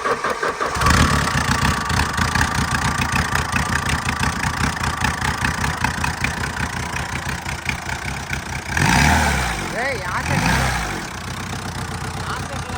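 A Ford Ikon car engine with the silencer removed runs loud and raw at a steady idle close by. Its rapid pulsing exhaust beat surges briefly twice.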